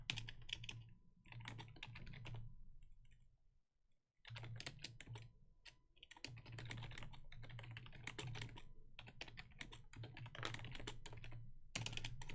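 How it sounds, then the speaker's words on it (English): Fast, furious typing clatters on a computer keyboard in quick dense bursts with a brief pause, close and clear with no talk. "Furious typing sounds!"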